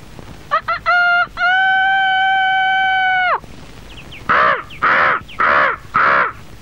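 A crow caws four times in quick succession, loud and close, each call harsh and clipped. A sustained harmonic tone comes just before the calls.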